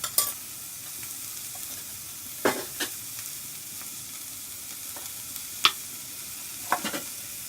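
Onions, mustard seeds, urad dal and cumin sizzling in hot oil for a dal pulusu tempering, a steady close crackle with a few sharp stirring clinks and scrapes scattered throughout.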